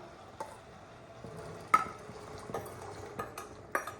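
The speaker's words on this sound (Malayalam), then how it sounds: "നമുക്ക് നമ്മുടെ പട്ടാണീനെ ഇട്ട് കൊടുക്കാം." Green peas tipped into a pan and stirred: sparse scraping and light clinks of a spoon against the pan, a sharper knock near the middle, all quiet with no voices.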